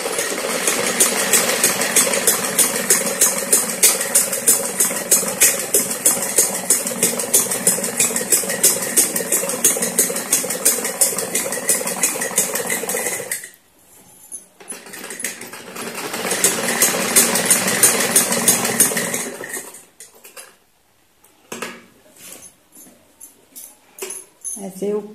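A sewing machine stitches a semi Patiala salwar in a fast, steady run of needle strokes, stops briefly, then runs again before trailing off into scattered handling clicks; near and loud, with no talk over it.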